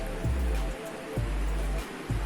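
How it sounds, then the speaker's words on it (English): A steady wash of rain hisses throughout, with low rumbling thumps that come and go every second or so. "can you hear the rain?"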